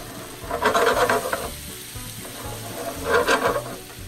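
Cajun butter garlic steak bites sear on a hot outdoor cooker, with a steady close sizzle that swells in two bursts as the meat is stirred and flipped.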